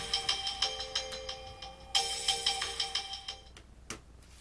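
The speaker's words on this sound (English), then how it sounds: "Oh, and I got a phone call." An incoming call's electronic ringtone plays in a rapid repeating melodic pattern, two rounds in quick succession, moderately loud and close by, then cuts off with a click.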